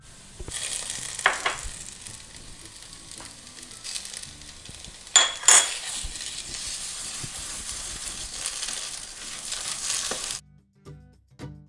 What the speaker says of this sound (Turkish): Şimdi salçasını koyuyorum. Dolu dolu yemek kaşığı biber ve domates salçası karışık.